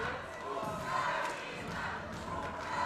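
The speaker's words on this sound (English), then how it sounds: "Crowd is going wild." Supporters roar and cheer in a steady, sustained crowd din at the arm wrestling world finals, with shouts and thumps rising and falling throughout.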